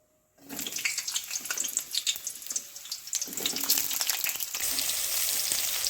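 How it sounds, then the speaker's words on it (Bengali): Pointed gourd pieces dropped into hot mustard oil in a wok burst into loud, crackling sizzle after a brief silence. The frying hiss stays close and continuous, with sputtering pops and a steadier roar toward the end, and no speech. "সর্ষের তেল দিয়ে প্রথমেই পটলগুলোকে আমি খুব ভালো করে একটু কষে নেব।"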